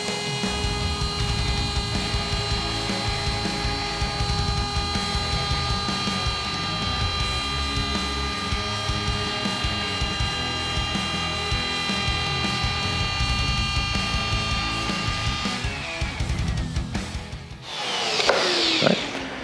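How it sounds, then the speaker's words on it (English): Router fitted with a Radiant Tools 3-flute 8mm cutter shaping the taper on a guitar neck, a steady loud whine with tonal harmonics running continuously, cutting off near the end before a brief burst of rougher noise. "I'm gonna be using one of my favorite cutters, which is the Radiant Tools 3 flute 8mm"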